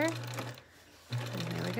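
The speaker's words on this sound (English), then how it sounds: "I'm going to start sewing and go back to secure." A domestic sewing machine stitches fabric for a crib sheet, its steady motor whir running briefly, pausing for under a second, then resuming close and even.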